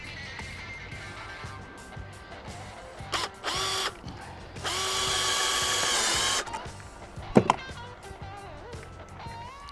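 A power drill drives screws into the tailgate wall of a square drop camper, with a couple of short whirring bursts and then one longer, steady run at close range, followed by a sharp clack.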